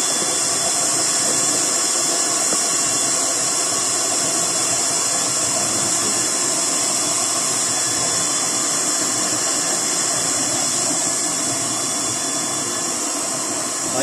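A waste oil stove with a six-inch burner chamber and a 36-hole nozzle roars steadily and loudly throughout, a constant broad rushing flame noise with a hissing edge and no break.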